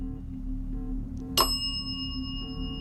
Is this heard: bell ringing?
yes